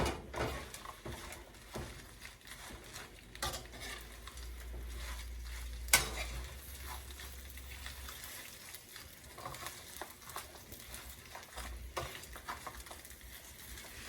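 Dried chiles toasting in a hot pan for an al pastor marinade, a soft crackling sizzle with scattered stirring clatters and scrapes, fairly faint and close, no talk.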